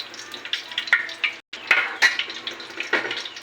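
Ghee melts and sizzles in a hot pan while making chicken pulao, a steady close crackling fry with brief gaps and small spattering bursts, no voices heard.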